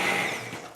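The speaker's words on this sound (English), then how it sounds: "this is a KitchenAid stick blender that one of my kids got me for Christmas" A KitchenAid stick blender purees cream of asparagus soup, a loud, close motor whir that stays steady and eases slightly as it runs, with no talking.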